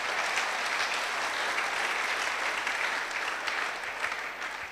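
Church congregation applauding in praise, a dense steady wash of many hands clapping at once, loud and sustained before easing slightly at the end.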